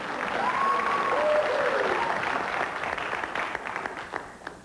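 Studio audience on a 1985 TV game show breaking into loud sustained applause with some cheering and a whistle, the clapping thinning out toward the end.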